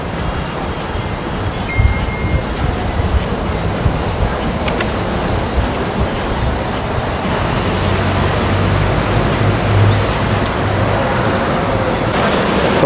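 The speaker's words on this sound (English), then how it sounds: "It's very busy here with the traffic, so it is." Busy city street traffic in Waterford rolls past as a continuous wash of road noise, with passing vehicles swelling and fading and a few faint clunks, no talk heard.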